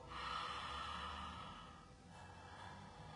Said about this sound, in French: la respiration où on resserre un peu la glotte et où on entend